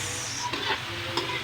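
Braised pork humba is stirred in a hot pan, with a steady sizzle and fry and a couple of brief scraping strokes, heard close up.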